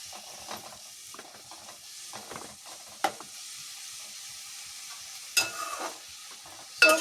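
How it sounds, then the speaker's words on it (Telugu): Paneer masala frying lightly in a pan over high flame gives a faint, soft sizzle, broken by scattered scraping and stirring scrapes and a few sharper clinks of a utensil against the pan. "సో మనం దీన్ని ఫ్రై చేసుకోవాలంటే జస్ట్ లైట్గా ఫ్రై చేసుకోవాలన్నమాట"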